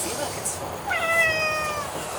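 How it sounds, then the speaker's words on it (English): A cat inside an RV gives one short, fairly clear meow in a quiet room, near and moderately loud. "That cat, it's pathetic."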